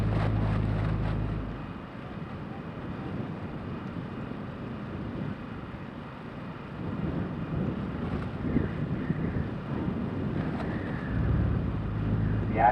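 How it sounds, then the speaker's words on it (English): Gusty wind buffets the microphone outdoors at a juvenile cross country championship in Tipperary, a loud low rumble that swells and eases throughout, with faint crowd sounds in the background. "The wind's rising now again."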